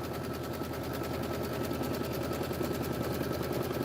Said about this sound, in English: stitch the background placement line and seam line